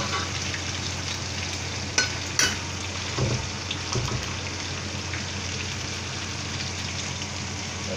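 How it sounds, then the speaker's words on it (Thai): Chicken wings deep-frying in oil with garlic: a steady, dense sizzle and bubbling crackle, close and even, with a few sharp clinks of a utensil stirring early on and no talk. "ทอดไปเรื่อยๆครับให้สีออกเหลืองเข้มให้หนังกรอบไปเลยครับ"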